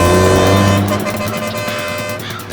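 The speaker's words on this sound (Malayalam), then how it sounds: "ആ വരുന്നതേ നമ്മുടെ രാജൻ കോൺട്രാക്ടറുടെ വണ്ടി" A contractor's car approaches along a road at night, its engine hum steady then easing into a rougher, fluttering rumble as it nears, fairly loud and close with no talk.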